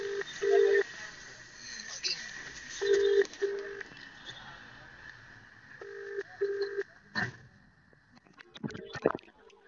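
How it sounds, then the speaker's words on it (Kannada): A phone call rings out with a repeating electronic ringback tone in short evenly spaced bursts, heard close alongside people talking. "ನಮ್ಮ ಗೌತಮ್ ಬ್ರೋ, ಅವ್ರನ್ನ ಸಲಿ ಫೋನ್ ಮಾಡ್ತೀನಿ ರೀ."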